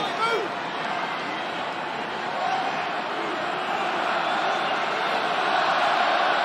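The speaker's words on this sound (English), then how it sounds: "Crowd raise their voice." A rugby stadium crowd at an international match involving Scotland keeps up a dense, steady roar that swells slightly louder as play pushes forward late in the game.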